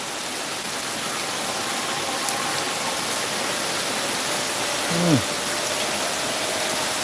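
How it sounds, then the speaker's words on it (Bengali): Heavy rain pours down outdoors in a steady, dense hiss that stays even throughout, with a brief low sound near the end. "আমাদের এখানে প্রচণ্ড বৃষ্টি হচ্ছে"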